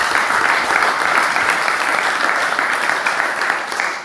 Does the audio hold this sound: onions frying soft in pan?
no